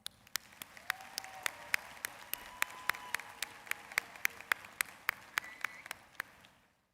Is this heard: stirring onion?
no